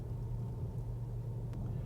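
Engine noise from a Skoda Kodiaq RS played through the car's speakers makes a steady low droning rumble inside the cabin, even and continuous with no talking.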